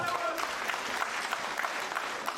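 Steady applause from a snooker crowd fills the whole stretch, dense and even with a few sharper claps, while a commentator's voice is faintly audible under it.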